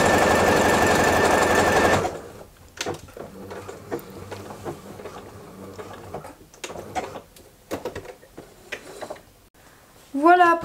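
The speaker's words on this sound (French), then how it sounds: "je refais quelques points par-dessus, un petit point d'arrêt" A sewing machine stitches a few backstitches over elastic, a loud dense whir at first that stops abruptly, followed by quiet scattered clicks and handling noises and a short rising whine at the very end.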